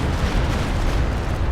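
Stuka rocket artillery barrage in a World War II strategy game roars as a dense, continuous blast of loud rumbling noise with no pauses.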